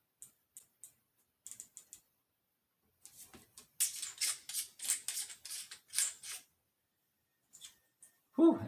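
Crisp, dry clicks from the turret adjustment of a Leupold VX-Freedom 6-18x40 rifle scope, first a few spaced single clicks, then a rapid dense run of detents, close and quiet with no voice.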